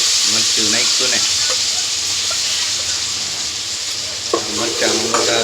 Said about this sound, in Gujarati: મરચાંનો વઘાર લીધો છે